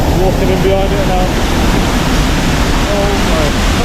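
Hidden waterfall in Wales roaring loud and close from behind the falling water, a dense, constant rush; a voice speaks briefly under the noise.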